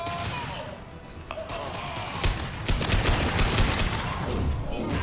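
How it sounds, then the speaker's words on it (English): Concussive shot gunfire from the video game Mass Effect 2, heavy concussive blasts bursting through a dense, continuous wash of battle noise, louder toward the end with several sharp impacts. "Firing concussive shot."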